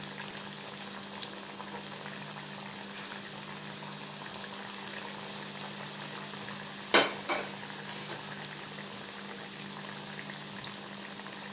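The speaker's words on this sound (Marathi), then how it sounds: "त्याच्यामध्ये आपण आता या कोथिंबीर वड्या सोडूया आणि चांगल्या खरपूस अशा फ्राय करून घेऊया" Coriander fritters (kothimbir vadi) frying in hot oil, a steady low bubbling sizzle throughout with a brief louder crackle near the end, no talking.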